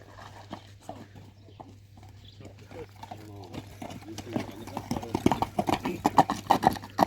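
A Karabair horse walks with clip-clopping hooves that grow louder and more distinct as it comes closer, while people talk nearby in the background.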